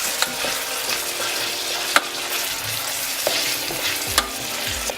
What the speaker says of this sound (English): I'll stir that in.